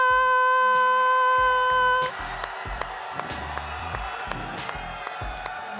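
Crowd at a 2025 Minnesota 10,000 Lakes Regional robotics competition cheering for the Blue Alliance, a broad roar of voices with whoops and scattered claps, starting after a sustained tone and continuing steadily.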